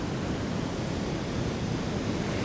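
Surf waves break on a beach during striped bass surf fishing, a continuous foamy whitewash roar heard up close with no voices.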